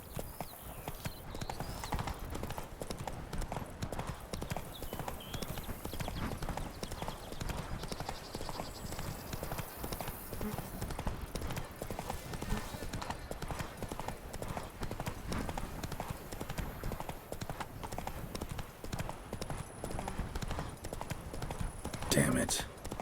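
Roach, the horse in The Witcher 3: Blood and Wine, gallops in a steady, close drumming of hooves that runs unbroken for the whole stretch, with a sharp burst near the end and talk mixed in.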